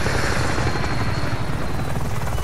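A helicopter in the Call of Duty: Modern Warfare video game roars with a loud, steady rotor and engine drone that fills the whole stretch, with no speech over it.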